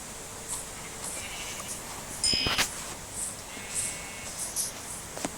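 Sheep bleat in the video game Minecraft, a few short thin cries spread across the clip with light clicks and footstep-like taps, fairly quiet and with no talk.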